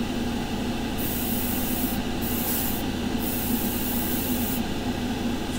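Airbrush spraying Badger Stynylrez oceanic blue primer in a light coat onto a sanded butter knife, a continuous close hiss with slight pulsing, no talking.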